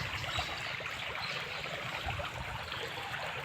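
Irrigation water runs from a tank into a wheat field, making a steady, close gurgling trickle that stays even throughout with no voices.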